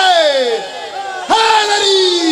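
A large crowd at an Eid e Ghadeer gathering shouts religious slogans in unison, two loud rising-and-falling chanted calls with strong harmonic voices, close and energetic.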